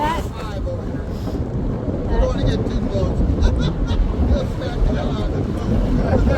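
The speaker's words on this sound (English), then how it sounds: "It was really windy and a little chillier than we were expecting" Strong wind in Alaska buffets the microphone in a continuous low rumble, gusting slightly louder midway, with faint voices in the background.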